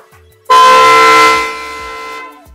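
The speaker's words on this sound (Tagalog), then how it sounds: "So ready na ba kayo sa malakas na busina?" A single blaring horn blast from an aftermarket horn on an electric scooter, very loud and close, sustained for about a second before fading out.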